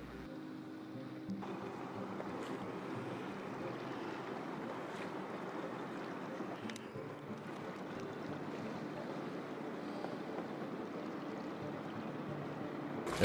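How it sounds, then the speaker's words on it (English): Large ocean swells break onto a sandy shore below dunes on California's Channel Islands, a steady, broad roar of surf with faint engine-like rumble underneath, continuous and fairly distant. "large swells sweep ashore to explode upon the sand dunes"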